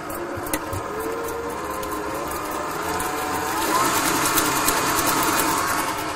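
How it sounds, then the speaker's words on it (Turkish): A motorized kitchen mixer with its lid closed runs steadily, mixing a lemon summer dessert, with a mechanical whir and occasional clicks, moderately loud throughout. "Mikserime alıyorum."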